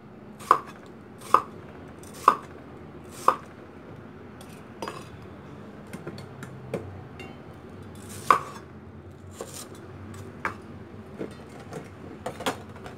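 Bitter melon being cut with a knife on a board, four sharp evenly spaced chops followed by a pause, one more strong chop and quieter light cuts and clinks, close and without talk.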